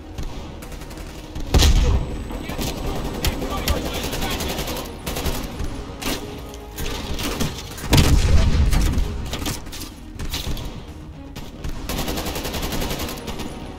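Grenade blast and gunfire in Call of Duty: Black Ops Cold War, two heavy booms near the 2- and 8-second marks standing out over a continuous rattle of rifle and machine-gun fire. A voice talks briefly in the mix.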